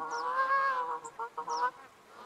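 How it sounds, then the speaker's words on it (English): Magpie geese honking in the hunting game theHunter Classic, a flock arriving: several nasal, drawn-out honks in quick succession, fairly close and clear, with no voices over them. "Geese incoming."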